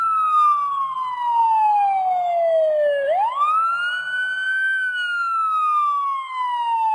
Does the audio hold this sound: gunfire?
no